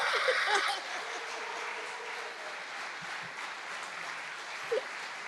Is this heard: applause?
yes